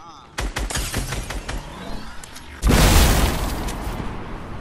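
Rapid gunshots in Fortnite's Tilted Towers zone wars, a string of sharp close cracks followed by a louder burst of blasts and debris, with players talking over the action.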